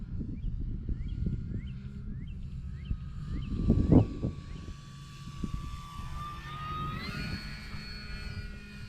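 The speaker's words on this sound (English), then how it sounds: "Good flying plane." An E-flite MPD Commander radio-controlled model airplane flies overhead, its electric motor giving a steady droning whine that rises in pitch near the end, with a brief louder burst midway and no talking.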